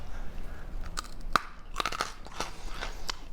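Crisp baked gingerbread shapes snap and crunch in a handful of sharp, close bites spaced unevenly, each crack distinct against a quiet room.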